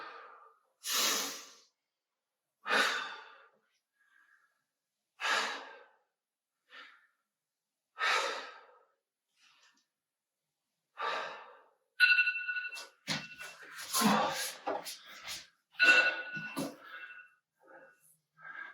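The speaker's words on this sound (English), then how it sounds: "Get really focused on controlling your breathing now." Heavy breathing during a full-body workout comes in sharp, close exhales spaced a few seconds apart, then quickens into denser, ragged breaths and sighs toward the end.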